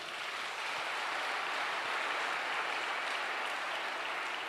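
A church congregation applauding to acclaim the Lord during a sermon, a steady unbroken wash of clapping from many hands, even and sustained throughout.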